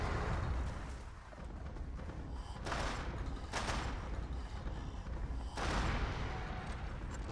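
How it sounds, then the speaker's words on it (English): A chaotic barrage of video game explosions, booming blasts and rumbling bursts, several loud impacts layered over a continuous roar, with no talking. "Oh, jeez. Explosions!"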